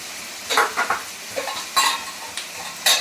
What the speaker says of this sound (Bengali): পেঁয়াজটাকে হালকা হালকা করে ভেজে নিয়েছি, সয়াবিন দিয়ে করবো বলে এবারে আদা দিয়ে দেবো